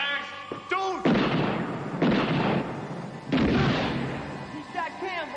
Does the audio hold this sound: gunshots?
yes